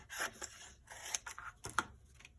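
Scissors cut through a piece of cereal-box cardboard in several short, crisp snips and scraping strokes, close up and quiet, with brief pauses between cuts.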